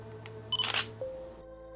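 A camera fitted with macro extension tubes fires its shutter once, a sharp close mechanical click-clack, followed by a brief faint whir in an otherwise quiet room.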